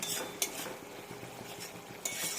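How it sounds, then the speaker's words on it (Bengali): Ginger sautéed with turmeric, cumin, coriander and Kashmiri chili powder in a pan gives a soft, continuous stirring scrape with a light sizzle underneath and two sharp utensil clinks, one early and one near the end. "তারপর আমি এখানে হলুদ গুঁড়ো, জিরে গুঁড়ো, ধনে গুঁড়ো, কাশ্মীরি লঙ্কার গুঁড়ো দিয়ে এখন আমি এটাকে ভালো করে সাঁতলে নেব।"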